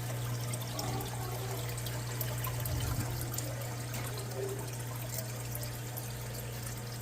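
Water spilling from a DIY emergency turtle filter down into the tank, a constant close splashing trickle with a steady hum underneath, no talk.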